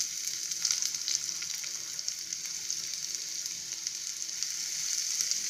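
Onion hitting hot oil with crackling cumin seeds gives a steady bright sizzle with scattered pops, close and fairly loud throughout, no voices.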